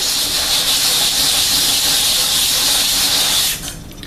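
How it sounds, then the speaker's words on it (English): A water tap runs as a sanded resin coaster is rinsed under it. A loud, steady close hiss of flowing water cuts off abruptly shortly before the end, leaving quiet. "I'm just going to go and rinse this off under a tap"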